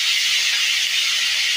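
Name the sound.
prawns frying in a pan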